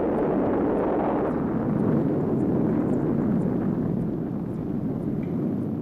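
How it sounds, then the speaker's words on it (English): Big bomb explosion, heard as a deep, sustained roaring rumble that rolls on for several seconds at steady loudness with no voices. "Big bomb."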